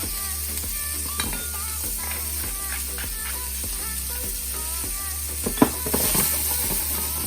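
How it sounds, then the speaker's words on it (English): Celery, onions, tomatoes and garlic stirred in a hot pan while braising oxtails, with a steady sizzle under repeated scraping and clinking strokes of a utensil against the pan bottom. "the goal is to get all those bits up off of the bottom of that pan"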